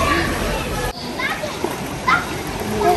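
A child splashes and plays in a swimming pool, with steady splashing and sloshing water close by under ongoing voices and child chatter.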